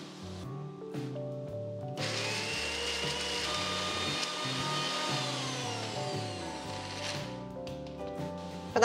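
A kitchen mixer grinder whirs loudly, grinding curry spices with water for a mackerel curry, a steady motor whine that starts abruptly, holds for several seconds, then cuts off near the end.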